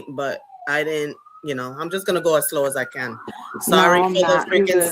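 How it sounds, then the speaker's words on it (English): Emergency vehicle sirens wail on a New York City street, a rising and falling tone under close conversation between people talking throughout. "Sorry for the sirens, guys. New York City."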